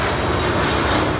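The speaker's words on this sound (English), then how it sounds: "planes" An airplane from a transportation sound effects library gives off a loud, steady broadband engine roar that holds even and unbroken throughout.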